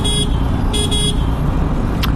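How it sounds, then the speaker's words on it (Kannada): A car horn toots in short bursts, two quick honks followed by a brief higher blip, over a constant loud rumble of road traffic. "ಸುಮ್ಮನೆ ಹಾರನ್ ಹೊಡಿತಾರ ಗುರು"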